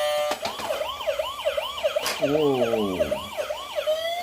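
A toy police car gives a loud electronic siren, a fast repeating wail that warbles up and down through most of the stretch. A single short exclamation cuts in near the start.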